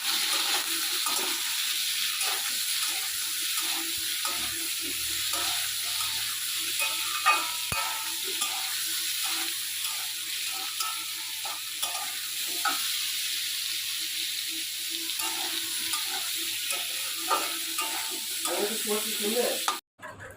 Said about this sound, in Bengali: এবার এটাকে আমি খুব সুন্দর করে নাড়াচাড়া করব